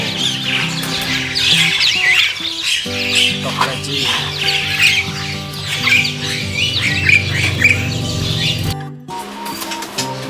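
White-rumped shamas (murai batu) and other caged birds in a bird shop in Sidoarjo, East Java, fill the air with dense, continuous chirps, whistles and squawks, loud and close, with a short pause near the end.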